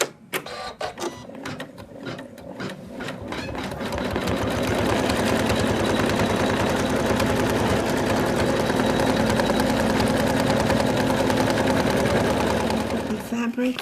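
An embroidery machine stitches a placement line for a Santa doll's beard and hat rim, its needle clattering in a fast, steady mechanical rhythm that starts up and runs loud and continuous close by.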